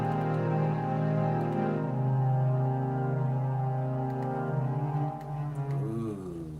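Sustained string chords swell slowly in volume, rich layered tones held steadily for several seconds before thinning and wavering near the end, alone with no voices.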